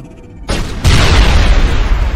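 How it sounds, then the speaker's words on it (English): A grenade blast in the sci-fi shooter Mass Effect on the icy world of Noveria: a sudden loud boom with a sustained rumbling roar that fills the short moment, heard alone. "using a grenade"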